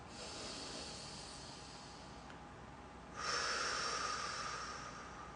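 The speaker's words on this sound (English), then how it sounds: "I'm going to breathe in my nose." A slow, soft breath drawn in through the nose, heard close and faint as a steady airy hiss that briefly brightens and grows a little stronger partway through.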